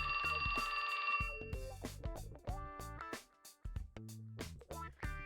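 A cell phone in the game 428: Shibuya Scramble rings with a bright, repeating electronic tone. Plucky musical notes with sharp onsets follow it and continue to the end.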